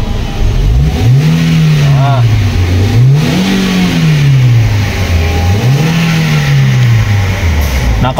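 Car engine fitted with STAG gas injectors, revved repeatedly during auto-calibration: three or four rising and falling sweeps, loud and close, with no talking.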